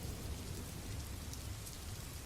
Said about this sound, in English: Soon the rain began to slow.